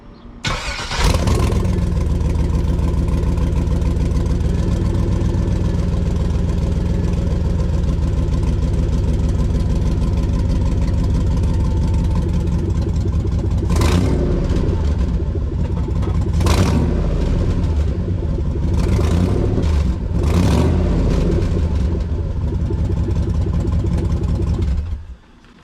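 A Firebird with an LS engine swap and a freshly fitted exhaust that has a large leak, started up and left running: a loud, steady, rumbling idle that holds for about 25 seconds, with a few sharp revs in the second half.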